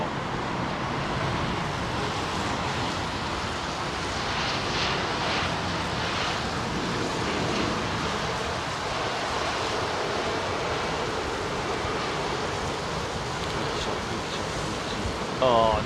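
An airliner landing on runway 27R at London Heathrow on a wet morning after rain, a broad continuous roar of engine and rushing air holding steady throughout, loud and close.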